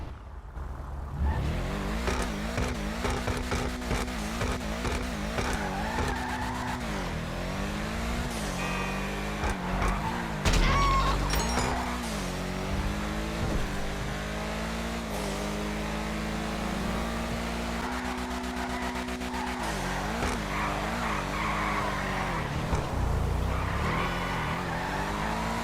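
An upgraded Aston Martin in GTA Online revs hard and continuously, its engine note rising and falling through gear changes, loud and close with occasional tire skids.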